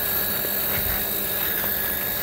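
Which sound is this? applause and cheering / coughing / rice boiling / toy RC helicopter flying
toy RC helicopter flying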